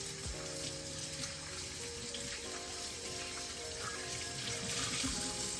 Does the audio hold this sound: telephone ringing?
no